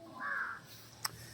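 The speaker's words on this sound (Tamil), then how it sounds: "காக்கா கூப்பிட்றாடா" A single crow caws once, a short nasal call at middle distance, followed by a brief sharp click in an otherwise quiet outdoor setting.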